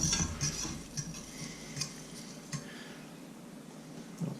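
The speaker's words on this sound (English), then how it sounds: "I'm going to go ahead and stir it up a little bit" A utensil scrapes and clinks against a pot while rice is stirred in boiling water over a Trangia alcohol stove, with soft irregular taps under a faint steady hiss.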